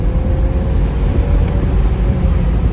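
A 2022 BMW 530i xDrive in sport mode accelerates in a short burst, heard from inside as a steady loud low engine drone mixed with road and wind rumble, no talking.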